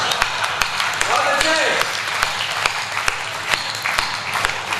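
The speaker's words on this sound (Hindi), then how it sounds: "आपने मोहर लगा दी ताली बजा के कि अच्छी बात है।" Audience applauding a comic poet at a Hindi poetry recital, a dense burst of clapping from a seated crowd, sustained and fairly close, with a voice briefly audible over it.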